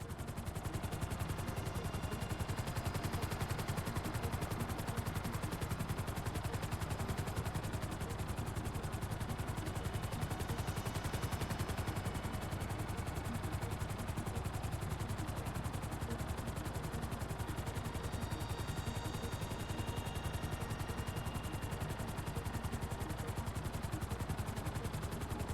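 Gunfire from a hovering helicopter in GTA V, a steady, faint wash of rotor drone and rapid shots that runs unbroken for the whole long stretch, without pauses or talk.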